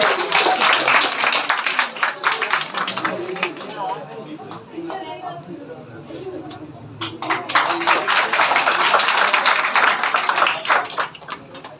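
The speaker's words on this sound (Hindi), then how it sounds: "मनी के लिए जोरदार ताली।" A crowd at a school toppers' award ceremony applauds a student, with dense clapping that swells, dips briefly, then rises again, sustained and fairly loud, mixed with voices.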